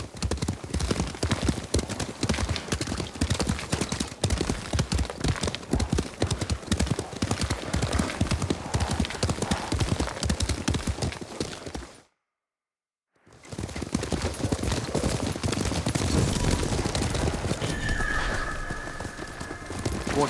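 Horse hooves gallop in a steady, rapid clip-clop rhythm through Ghost of Tsushima, loud and continuous, with a brief silent break midway and a horse whinny near the end.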